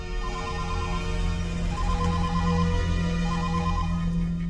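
A phone ringtone sounds in a repeating pattern of short electronic tones over a low, steady hum, loud and close with no talking.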